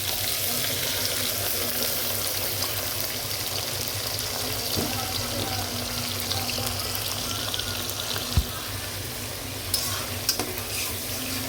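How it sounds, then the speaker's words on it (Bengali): Onions and spices fry in white oil in a pan, a loud, dense, continuous sizzle with occasional stirring scrapes and clinks, close by and without talk. "পেঁয়াজটি আমি ভালো করে ভেজে নেব।"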